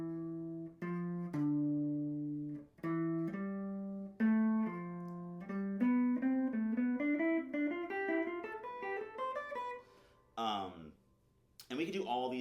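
A melody of tones alternates intervals, skipping up from a low note and back down to it while climbing a scale step by step, with clear sustained pitched notes in a steady rhythm and no voices over it.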